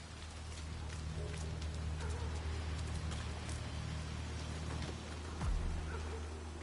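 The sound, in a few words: rain in a video game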